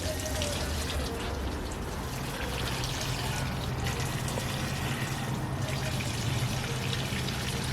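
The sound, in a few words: watering tomato plants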